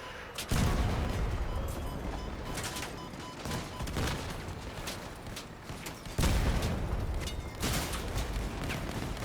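Bursts of shotgun fire in the vehicle combat game Crossout, loud and close, with heavy blasts near the start and again around the middle over a dense, continuous layer of battle noise.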